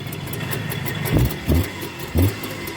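An engine with a newly fitted, unadjusted carburetor runs at a steady idle, broken by three short revs close by.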